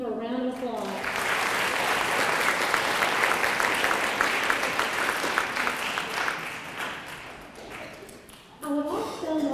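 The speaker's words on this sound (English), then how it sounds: "would you please stand and give her a round of applause?" A school audience at a spelling bee gives sustained applause to the pronouncer, dense clapping filling several seconds, with a brief voice before and after.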